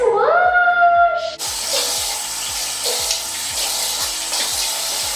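Water runs steadily from a tap while kojic soap is rinsed off skin. The start is clear, then a broad continuous splashing rush follows close and fairly loud, with no talking over it.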